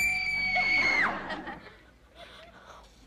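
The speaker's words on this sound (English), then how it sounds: "Or I could scream." A person screams a long, high, sustained note that abruptly drops away, followed by quieter indistinct voices and sounds.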